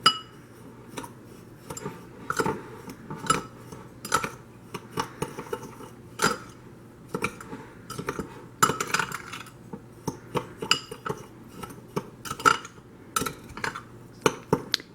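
Sugar, cinnamon and all-purpose flour stirred together in a bowl, heard as a steady run of light clinks and scrapes of a utensil against the dish, close and fairly quiet.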